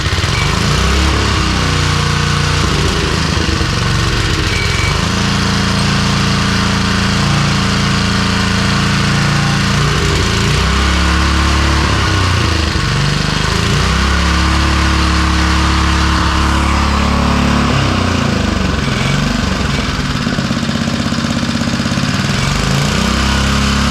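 A gas-powered string edger's small two-stroke engine runs steadily after a pull start without choke, a loud, continuous droning hum with slight shifts in pitch and no talking.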